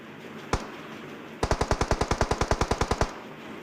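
Gunfire from two squads fighting each other in PUBG Mobile: a single shot, a short pause, then a rapid automatic burst of about sixteen evenly spaced, loud shots, with no talking.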